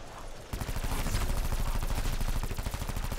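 Black Ops 4 Zombies gunfire with Cordite, a sustained rapid automatic burst starting abruptly and rattling on evenly and loud to the end, no voices.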